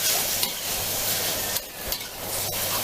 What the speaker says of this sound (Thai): ผัดไก่ไปเรื่อยๆนะครับทำให้ไก่มันสุกนะครับ